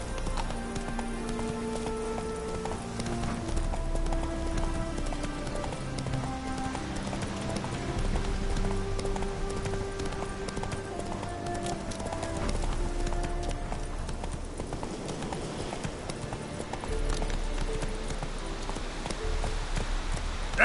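Hooves of the horse Roach clop in a steady galloping rhythm in a PS4 video game, continuous and moderately loud over a bed of game music.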